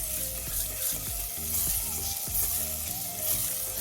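Wheat flour halwa frying in a pan, a steady close sizzle with occasional stirring scrapes, continuous and fairly even in loudness throughout, with no voices.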